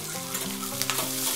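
Garlic, ginger and green chillies fry in hot oil in a pan, giving a steady, loud sizzle with a few scrapes of stirring and no voices.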